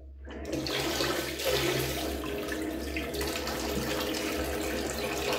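A tap is turned on for a cold rinse after shaving, and running water gushes into a sink. It starts abruptly from silence, then holds a loud, steady splashing rush close by.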